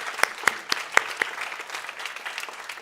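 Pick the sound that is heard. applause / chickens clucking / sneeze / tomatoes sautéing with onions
applause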